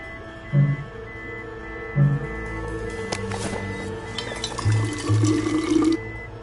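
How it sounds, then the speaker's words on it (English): Water running and filling in the video game We Happy Few as water is filtered, a steady liquid flow with a few low thuds and clicks over it, moderately loud and with no talking. "I'll need to filter some water."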